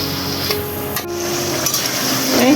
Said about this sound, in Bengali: দিচ্ছি কিছুটা আলু, আলুগুলো কিছুক্ষণ একটু কষিয়ে তারপরে রেহা তরকারি দেবো